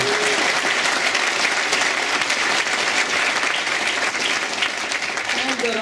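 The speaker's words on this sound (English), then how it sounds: "let's give them a round of applause for recognizing" Sustained applause from a large crowd fills a graduation ceremony hall, a dense, loud patter of clapping that carries on steadily without a break.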